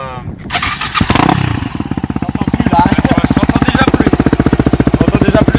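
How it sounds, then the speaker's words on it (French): A Yamaha WR 250 supermoto engine, with baffle and spark arrestor fitted, sputters to life after a thump, then settles into a loud, rapid, pulsing idle close by. "je te laisse l'allumer pour nous faire voir un peu le bruit que ça fait"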